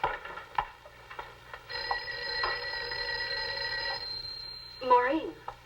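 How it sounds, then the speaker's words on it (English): An old-fashioned telephone bell rings in a 1950s office, a sustained metallic trill lasting a couple of seconds, followed by the clatter of the receiver being lifted, with quiet room noise before. "I think your phone is ringing."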